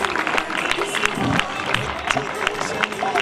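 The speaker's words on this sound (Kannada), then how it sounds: "ಇನ್ನುಳಿದ ಕ್ರೀಡಾಪಟುಗಳು ಚಪ್ಪಾಳೆ ಹಾಕಿ ಅವರಿಗೆ ಪ್ರೋತ್ಸಾಹಿಸಬೇಕಾಗಿ ವಿನಂತಿ." Athletes at a school sports meet clap to cheer a torch handover, with a lively crowd noise of applause and footsteps under a voice speaking over a loudspeaker.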